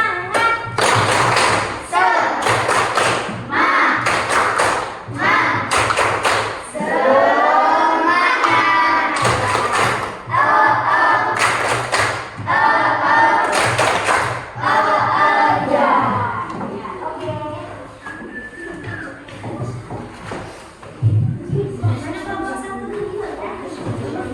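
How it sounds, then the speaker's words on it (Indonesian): A primary school class does a rhythmic spirit clap together, bursts of group clapping and thumps in a repeated pattern with children's voices chanting between the beats, loud and close. "Yuk, tepuk semangat."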